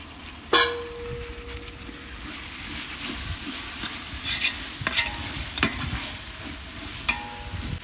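Half a kilo of tomatoes fries with ginger and garlic for a large pot of mutton biryani. A loud, steady sizzle runs throughout, punctuated by several sharp metal scrapes and clanks of stirring, with no talking.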